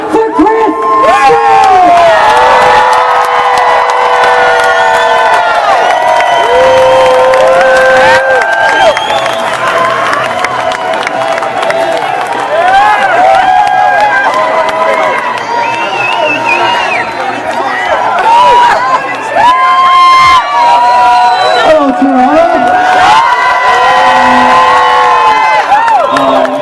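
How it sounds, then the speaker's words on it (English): A large outdoor crowd at a Toronto protest against police and vaccine passports cheers, whoops and applauds continuously, loud and close for the whole stretch, with shouting voices rising and falling throughout. "Everybody put your hands together for Chris"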